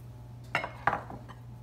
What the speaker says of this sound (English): I'm going to scrape down my bowl